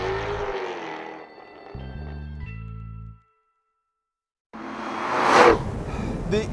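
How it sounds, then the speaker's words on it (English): A Jaguar F-Type V8 S exhaust roars through hard acceleration, a dense engine note that breaks off into a short silence before surging back louder with a rising whoosh. "The exhaust and the acceleration overwhelm the rest of the car."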